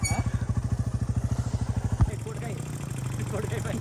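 A motorcycle idles close by on a mountain road, its engine thumping in a fast, even pulse that cuts off abruptly, followed by a low hum with faint background sounds.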